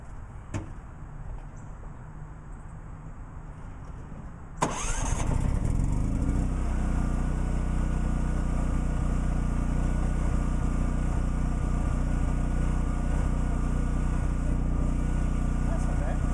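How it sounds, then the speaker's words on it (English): Cummins Onan RV generator on a Travato 59G, fitted with an added resonator, cranks and catches, then settles into a loud, steady, close running drone that continues unbroken. "I'll start it up, see what it sounds like."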